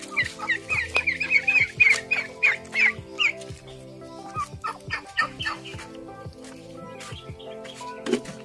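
Turkeys gobble and cluck near a fishpond, a flurry of rapid rattling gobbles early on followed by scattered clucks and calls, loud and close with no talk.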